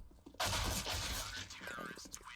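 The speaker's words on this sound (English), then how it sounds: "Apex hits some nice shots to end that round." A sudden loud burst of gunfire in a Counter-Strike match on Overpass, sharp shots with a ringing tail, set against faint game ambience.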